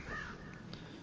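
Crow caws in the background of the video game The Evil Within, faint and brief within a quiet ambient bed, with no voices.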